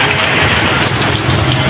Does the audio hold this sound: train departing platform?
no